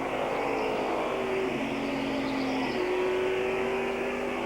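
NASCAR stock cars race at Phoenix in the fall Autoworks 500, a steady roar of engines with shifting pitch as cars run close together, loud and continuous throughout with no talk.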